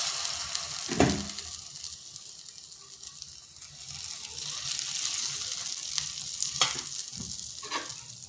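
Batter ladled into a hot pan over very low heat for an instant snack made without rice, flour or wheat, sizzling steadily with a soft hiss and occasional louder pops and clatters near the mic; no talking.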